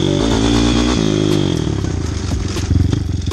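A small 160 YX motorcycle engine revs hard at full throttle climbing uphill, a loud close drone that settles into a rapid chugging pulse with rattling clatter.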